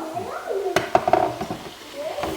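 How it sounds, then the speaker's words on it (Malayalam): Bitter gourd curry is stirred in a pan, with several close metallic clinks and scrapes of the spoon against the pot in a short burst, while a voice murmurs faintly in the background. "നമുക്കിതൊന്ന് ഇളക്കി കൊടുക്കാം കേട്ടോ"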